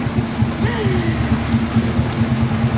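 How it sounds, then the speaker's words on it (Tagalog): Steady rain hisses throughout with a low rumbling hum underneath and a faint whistling tone rising briefly in the middle. "Lakas ng ulan guys, promise."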